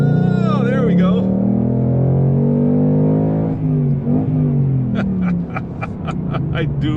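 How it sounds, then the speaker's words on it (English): A 2018 Ford Mustang GT with the 5.0 V8, in track mode, roars as the throttle is floored, its loud engine note sweeping up and down through the gears, with a burst of rapid revving blips near the end. "let's floor it so you guys can hear what this thing sounds like at full roar"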